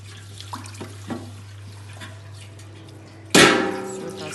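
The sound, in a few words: tap water rinsing a baking tray being washed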